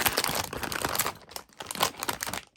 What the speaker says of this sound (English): that crinkly plastic will sound terrible, especially if you're watching with headphones